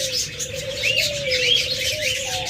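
Several small caged lovebirds, budgerigars and cockatiels chirp and twitter continuously close by, a busy overlapping chatter of tweets with a steady underlying tone.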